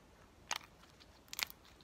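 Two short crunchy crackles from slime about a second apart, close and fairly quiet, with near silence between them.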